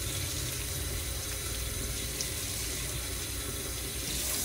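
Tap water running steadily into a sink while orchids are rinsed under it, a constant rushing splash at close range with no voices.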